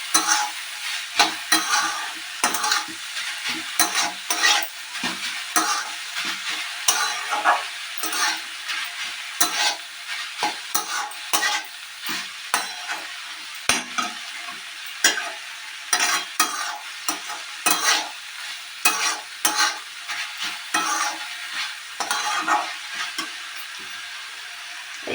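Flat beans for Bengali shim bhorta being stir-fried in a pan, a spatula scraping and tossing them in quick, steady strokes over a soft continuous sizzle, close and clear with no talking.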